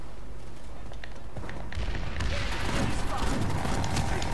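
Turret gunfire in the online shooter PlanetSide 2: a quiet stretch with scattered distant pops, then a dense, sustained barrage of rapid shots and thuds that grows louder in the second half.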